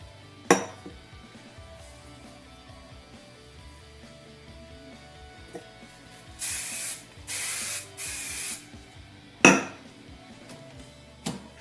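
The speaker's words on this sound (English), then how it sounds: "And then I'm going to spray everything." Three short hissing bursts of hairspray in quick succession, close and fairly loud, with a couple of sharp clinks before and after.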